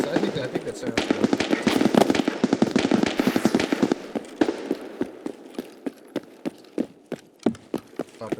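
Rapid gunfire in the shooter game SPT, a modded Escape from Tarkov, bursts into a dense, loud flurry of shots, then thins into single cracks spaced about half a second apart.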